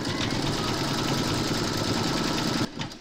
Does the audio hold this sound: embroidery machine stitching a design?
yes